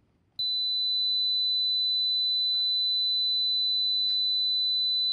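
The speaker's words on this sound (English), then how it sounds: "what I'm going to play here is a tone" A pure, steady high-pitched tone played through speakers to an audience starts abruptly and holds unbroken, with only a couple of faint background noises beneath it.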